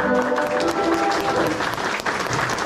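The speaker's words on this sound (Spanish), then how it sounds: "recibamos con fuerte palmas" At a wedding celebration, guests break into loud, sustained applause to welcome a speaker, dense continuous clapping from a nearby crowd with a few faint voices underneath.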